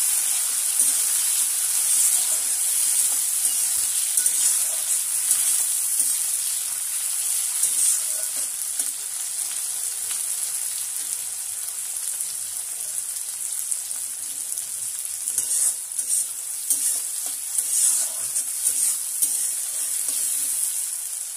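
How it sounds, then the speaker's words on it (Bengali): Chopped onion and tomato fry in a pan with a steady, bright sizzle, continuous and close, occasionally swelling with stirring, for a long unbroken stretch. "টমেটো আর পেঁয়াজ ভালো মতন ভাজা হয়ে গেছে।"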